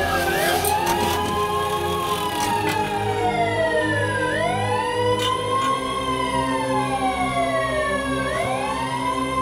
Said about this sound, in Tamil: ஆமா இது ஆம்புலன்ஸ் வந்துருச்சு.